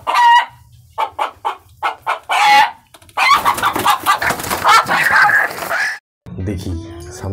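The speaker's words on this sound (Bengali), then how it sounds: "দেখি মুরগিটা আছে তো" A chicken clucks in a series of short, loud, close bursts, then a longer stretch of excited cackling follows before a brief pause and a few final clucks.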